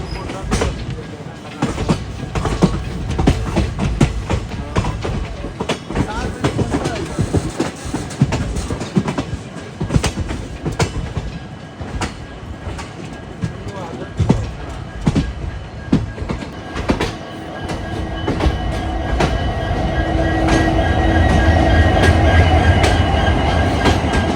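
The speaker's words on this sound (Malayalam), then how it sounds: "അപ്പോൾ അത് ഇവിടെ കൊണ്ടിട്ടേക്കും അതിൻ്റെ റേക്ക്." A passenger train rake for the Vasco–Hyderabad/Tirupati Express rolls into a station, loud and close, with steady clickety-clack of wheels over rail joints and a rising rumble toward the end, with voices talking over it.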